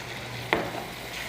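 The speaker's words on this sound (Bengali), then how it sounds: "পানি দিয়ে সুন্দর মতো কষাই দিও" Tara baim fish curry masala is sautéed with water in a pan, with a steady low sizzle and one sharp utensil scrape or knock midway, up close.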